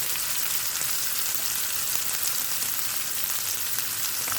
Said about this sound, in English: That's starting to sizzle nicely.